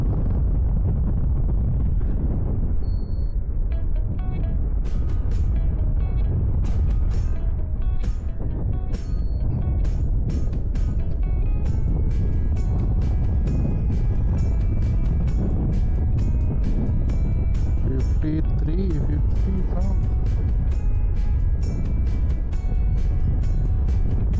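A Bajaj Chetak electric scooter rides at top speed, giving a steady, loud rush of wind over the microphone with a rapid ticking of clicks throughout and no talking.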